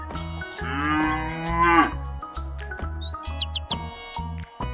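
A cow lets out one long, loud, close moo lasting over a second, followed by a few faint bird chirps, all over a rhythmic music backing.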